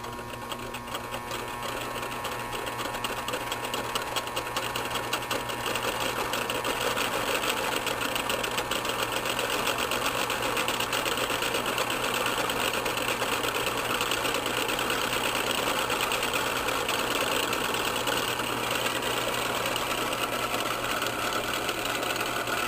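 An electric motor with a spiral-patterned rotor runs steadily, a loud, constant mechanical whir with a tonal hum and rapid ticking that holds unchanged throughout, with no talking.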